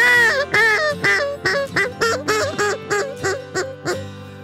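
A hand-muffled duck call imitates a group of ducks, giving a steady run of about a dozen close, loud, honking quacks in quick rhythm.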